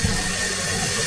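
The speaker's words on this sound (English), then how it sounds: "run your water for about 30 seconds to be sure that there aren't any leaks" Steady rush of water running from a sink tap, constant and fairly loud throughout with no pauses.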